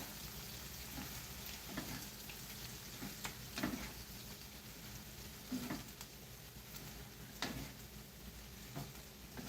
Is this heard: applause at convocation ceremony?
no